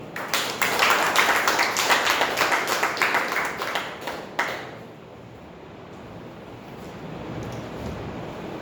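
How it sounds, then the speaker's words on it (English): Clapping from a Toastmasters meeting crowd rings out for about four seconds, then stops abruptly, leaving only a low, quiet room hum. "huge round of applause for DM Rahul."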